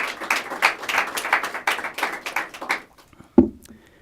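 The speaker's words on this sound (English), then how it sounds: "If we can give him a round of applause." An audience claps for Dr. Maxwell, the county school superintendent, a few seconds of fairly sparse, uneven clapping that stops abruptly, followed by a single knock-like tap.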